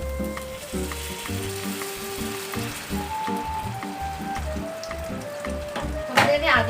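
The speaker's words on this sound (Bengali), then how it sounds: "এবার এতে আমি একটু জল অ্যাড করব।" Fried spice paste for a Bengali pomfret fish curry sizzles steadily in the pan, with a louder burst of hissing and bubbling near the end as water is poured in.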